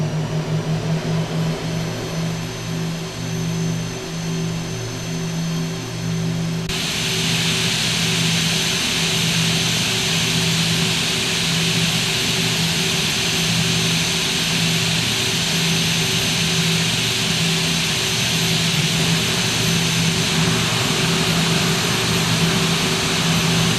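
Boeing 737-800 jet engines spool up in the X-Plane flight simulator, a loud steady turbine roar with a hum that thickens and brightens as thrust rises, continuing unbroken and alone.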